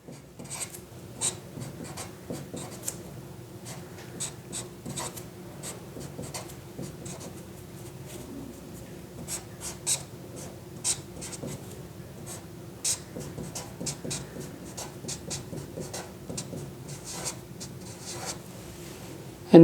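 A pen writes and draws a chemical structure for an azide-alkyne cycloaddition, a steady series of short close scratchy strokes and taps with brief pauses, running for about twenty seconds without talk.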